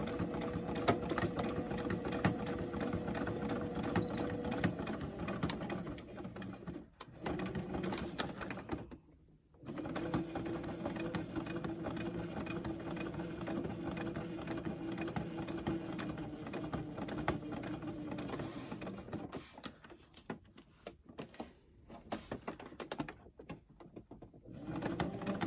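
A sewing machine stitches a fitted fabric face mask with a metal nose strip, running in a fast, steady mechanical clatter for long stretches. It stops briefly a few times, and the sound is close and moderately quiet.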